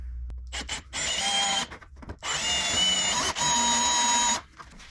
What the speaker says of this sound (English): So once you have your hole drilled